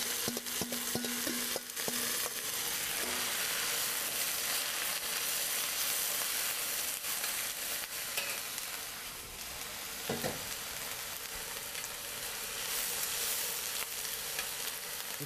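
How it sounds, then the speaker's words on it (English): Garlic toasts in a pan with a constant fine sizzling hiss, close and soft, with a few clinks and stirring scrapes near the start and another brief knock midway. "you can toast garlic like this"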